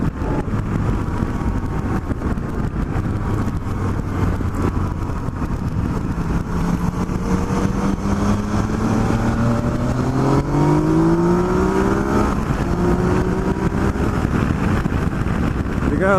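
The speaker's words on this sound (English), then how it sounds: "gotta love that acceleration." Motorcycle on a highway accelerating hard, engine pitch climbing steadily through the gears with rising whine over constant wind and road roar, close and loud.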